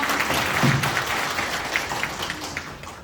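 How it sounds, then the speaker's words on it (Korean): Audience at a social economy committee launch event applauds a speaker with steady, dense clapping that continues throughout and fades slightly near the end. "뜨거운 박수 부탁드립니다."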